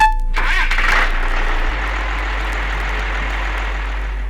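A J.I. Case Agri-King tractor diesel engine cranks and catches, then settles into a steady, even idle, close and alone.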